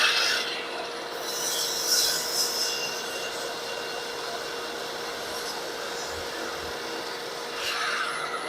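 Wood slabs for waterfall edge tables are sanded with a steady, close abrasive rasping that runs continuously, with brief brighter swells near the start and end.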